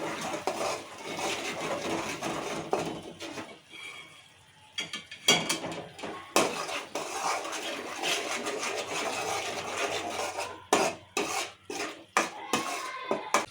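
Spices being stirred into a tomato curry in a pan, with repeated scraping and clinking of a spoon against metal, irregular and close, pausing briefly midway.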